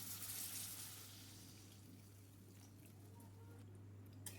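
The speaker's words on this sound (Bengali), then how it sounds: "এবার এতে আমি জল দিয়ে দেব।" Water poured into a pan of mixed vegetables for a Bengali mixed veg dish, a steady broad wash strongest at the start and tapering into a low, continuous trickle under a constant low hum.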